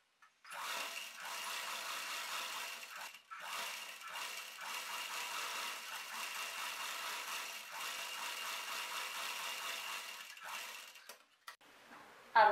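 A sewing machine stitching the lower hem of a divided umbrella skirt, running in a steady rattling whir for several seconds with one brief pause, then stopping.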